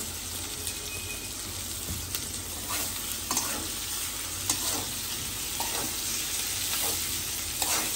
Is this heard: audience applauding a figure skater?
no